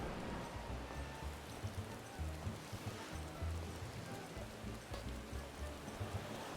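Rain falls in the video game Final Fantasy XIV outside Costa del Sol, a steady soft hiss of drops under a low, rhythmic rumble. The sound is faint and even throughout.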